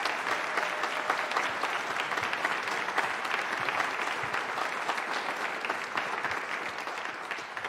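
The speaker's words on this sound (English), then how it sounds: "How about a round of applause for all the students here on stage?" A student string orchestra takes a round of applause on stage at an honors concert, with dense, steady clapping from a large audience filling the hall at an even loudness throughout.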